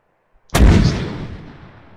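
A single loud, booming 2B14 Podnos mortar shot in the video game Arma 3, with a sharp onset, followed by a long rumbling decay that fades over more than a second.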